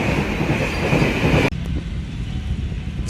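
An express train rushes past on the rail line with a loud, steady rumble and clatter of wagons that cuts abruptly to a lower, rougher roar midway as the cars continue by close at hand.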